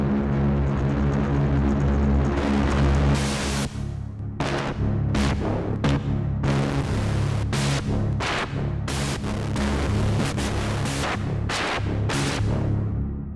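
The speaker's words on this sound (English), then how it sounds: "I want to see what adding just analog distortion on top of the distortion that's already in the filter sounds like." Soundpaint synth bass with added analog distortion, a thick droning low tone with gritty harmonics, played in sustained notes and choppy rhythmic stabs, loud and alone.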